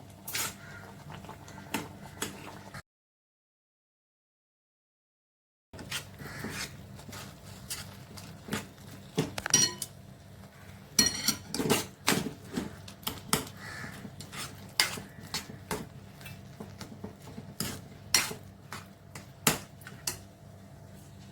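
A spoon scrapes and clinks against a pan as semolina is stirred into boiled water on the stove. The sound is irregular and fairly quiet, with a brief stretch of silence near the start.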